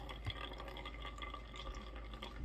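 A homemade herbal cold and flu remedy pours slowly from a jar through a filter, giving a faint, steady trickle and drip of liquid with no voices.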